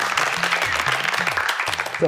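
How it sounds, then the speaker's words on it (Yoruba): Audience applause for young contestants on a Yoruba children's game show: a steady wash of clapping runs throughout, with a host talking over it. "Ẹ bá mi pàtẹ́wọ́ fún wọn, wọ́n gbà á."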